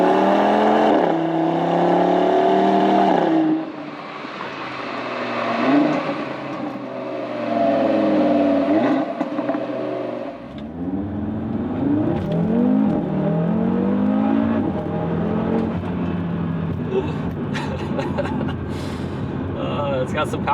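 An Audi RS3 with a Unitronic Stage 1+ tune and matching DSG tune drives off and accelerates, engine revving up through rising gear sweeps from inside the cabin, with people talking over it.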